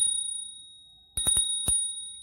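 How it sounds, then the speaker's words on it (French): Bell on a Gyroboarder M11 electric scooter, a few quick bright rings close up, with a steady high electronic whine present throughout. "Donc vous avez la sonnette qui se présente comme ça."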